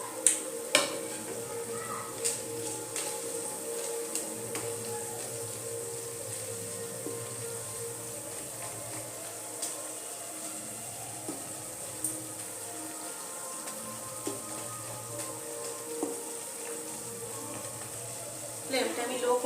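Gravy bubbling in a pan with broken papad pieces added for a Rajasthani papad curry, a soft steady sizzle and simmer with occasional utensil clinks and stirring taps; a voice speaks over it.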